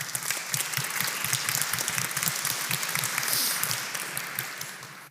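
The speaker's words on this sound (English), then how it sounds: "Round of applause, please." An audience at an open-access publishing conference in a church hall applauds its speakers, with steady, dense clapping at moderate volume that continues evenly throughout without talk.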